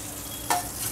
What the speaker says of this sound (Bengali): একটু আলাদা করে চিংড়ি মাছ ভেজে